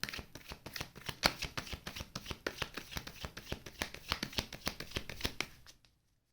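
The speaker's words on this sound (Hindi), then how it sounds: "जब कार्ड शफलिंग हो रही होती है" Tarot cards are shuffled by hand in a long, steady run of quick riffling flicks, close and fairly soft, continuing for several seconds before stopping abruptly into silence.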